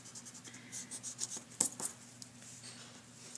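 A pencil draws lines on paper in a series of short, faint, scratchy strokes against a quiet hum, with a few slightly sharper scrapes in the middle.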